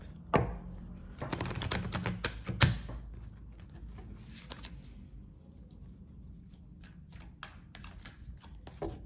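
Tarot cards are laid out on a table with a burst of quick close snaps and slaps, then softer scattered taps and shuffling, with no talking.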